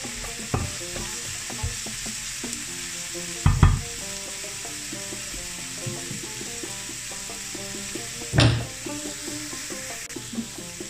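Meat fries in a pan with a steady, moderate sizzle, broken by a few sharp scraping stirs and clatters of the utensil against the pan.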